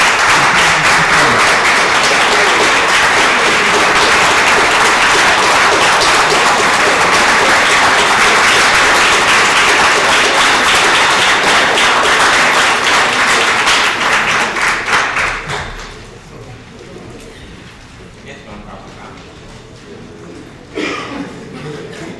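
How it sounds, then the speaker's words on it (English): Audience at a city council emergency meeting in Bogalusa clapping and cheering loudly and continuously for about fifteen seconds, then fading to scattered claps and murmuring. "I'd like to ask you to refrain from your clapping and your cheering"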